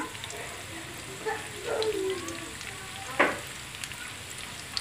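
Potatoes and chicken nuggets frying in oil, a steady soft sizzle with a few louder crackles and pops, close by, with no talking.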